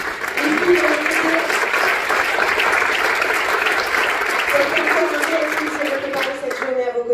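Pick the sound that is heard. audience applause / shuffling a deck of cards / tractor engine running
audience applause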